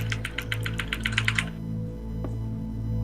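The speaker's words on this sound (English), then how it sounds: "And mashing the R key like no tomorrow." A computer keyboard with its R key mashed rapidly, a fast run of sharp close clicks for about a second and a half, then only a low steady hum with one faint tap.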